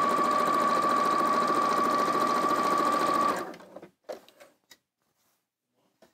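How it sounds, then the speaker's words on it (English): Janome 550 Experience sewing machine stitching in a steady, fast whir close up for about three seconds, then stopping, followed by a few scattered clicks and handling noises before silence. "This little 550 experience machine is very cute. It works very, very well."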